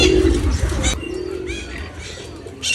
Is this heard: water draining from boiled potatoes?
no